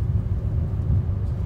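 A water truck at a construction site near Fortaleza drives off, its engine a low, steady rumble that holds close and moderately loud for the whole short stretch.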